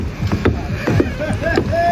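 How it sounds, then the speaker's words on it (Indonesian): A boat at Sanur's Matahari Terbit harbour in Bali, bound for Nusa Lembongan, heard close with knocking hull and water sloshing and a few tonal creaks or whistles in the background. "Ini kapal yang akan mengantarkan kita dari Pelabuhan Sanur Matahari Terbit sampai ke Nusa Lembongan."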